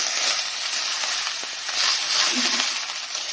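Kharkol leaves fry in oil in a pan, giving a steady broadband sizzle with faint stirring clicks, close and continuous throughout.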